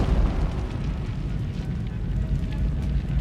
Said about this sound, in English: the stored ammunition begins to explode